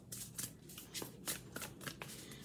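A tarot card deck is shuffled by hand nearby, giving quiet, rapid papery riffles and soft slaps in a steady rhythm with no talking.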